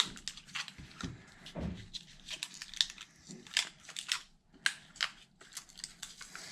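RC car parts for a Traxxas Slash 5.0 Mustang being unpacked, with close, irregular crinkling, tearing and snipping of packaging in quick bursts separated by short pauses.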